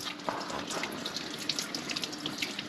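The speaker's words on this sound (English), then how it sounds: "You gotta wash them good and make sure they're clean, because they are dirty." Potatoes being washed in running water at a sink, a steady stream from the tap splashing over them with small clinks and sloshes throughout, close and fairly quiet.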